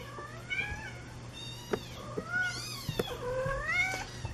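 A 35-day-old Siamese kitten meows repeatedly, several high, plaintive cries in a row with small clicks and rustles between them, close and distinct.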